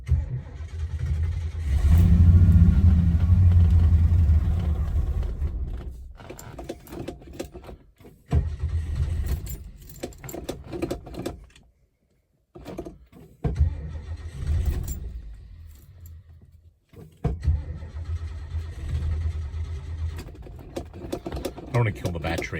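Starter cranking on a 1972 Lincoln Mark IV low on fuel, a loud sustained grinding churn near the start that stops, then shorter fainter crank bursts, with someone talking between attempts.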